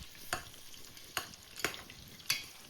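Chopped onions, salted early, fry in a pan for mutton marag soup. Four distinct spatula stirs scrape through at a steady pace over a faint, low sizzle, with no voices.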